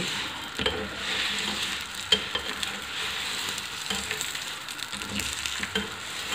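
Radish-stuffed paratha sizzles in homemade desi ghee made from skimmed milk cream, a steady close crackle and hiss with soft scraping stirs, no voices.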